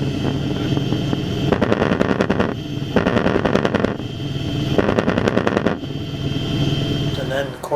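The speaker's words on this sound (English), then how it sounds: "you have the cannon that will fire up to 750 shots a minute" Boeing Apache attack helicopter cannon firing, several rapid bursts of loud automatic gunfire in quick succession over a constant engine and rotor drone.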